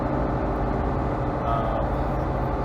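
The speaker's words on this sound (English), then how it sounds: "His tires are really noisy. They're getting low on tread, so they make a lot of noise, as you can probably hear right now." Worn, low-tread tires on a 2012 Ram truck give a loud, steady road roar throughout, a dense continuous rumble with engine noise mixed in.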